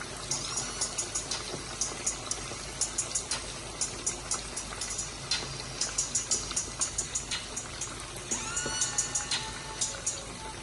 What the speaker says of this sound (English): I will now fry it